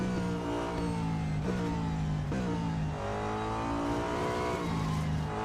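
A race car in Real Racing 3 accelerates through repeated gear shifts, the engine whine climbing and dropping several times with faint tire noise, loud and continuous.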